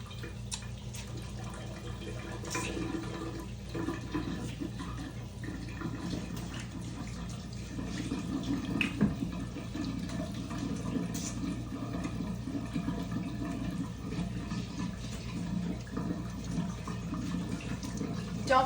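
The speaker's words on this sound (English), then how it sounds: "Over here, wash my hands." Kitchen tap running steadily as hands are washed at a sink, a continuous soft hiss of water with faint splashes, moderately close and unbroken for the whole stretch.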